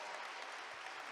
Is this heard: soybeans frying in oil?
no